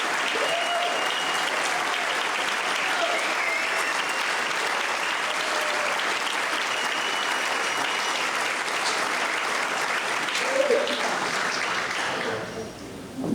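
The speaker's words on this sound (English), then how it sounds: "round of applause." Guests at a formal charity gala give a long, sustained round of applause for the organization's staff, a dense, even roar of clapping with faint crowd murmur that tapers off near the end.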